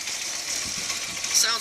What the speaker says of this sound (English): if you can hear towards the back of the engine, there's sort of a bit of a tapping.